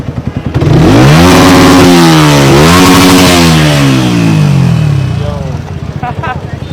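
A second-hand Suzuki motorcycle with a modified, illegal exhaust revs hard and loud up close, rising and falling through several sweeping throttle blips before dropping back, with voices talking around it.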